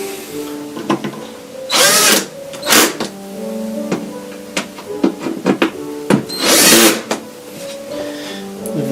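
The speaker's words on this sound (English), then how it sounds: "now we're going to just power screw them in" A power screwdriver drives screws into the casing of a Roland A-90 keyboard, several separate short whirring bursts of a second or so each, close, with small clicks and handling noise between them.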